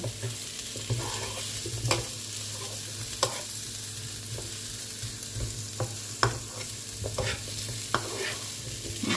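Squash stir-fried with spices in a pan sizzles steadily up close while a utensil scrapes and taps at irregular intervals, the frying hiss running under the scattered clinks, with no one talking.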